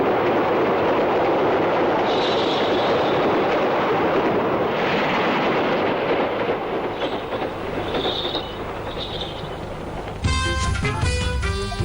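A train rolls past at close range with a loud, steady rumble and rushing wheel noise, faint squeals and clatter on the track, and a brief blast of music at the end.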